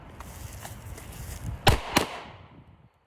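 Two sharp pistol shots at a target, close together and loud, fired in quick succession over a low outdoor background, with faint ticks beforehand.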